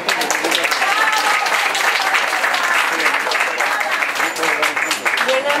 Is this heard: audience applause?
yes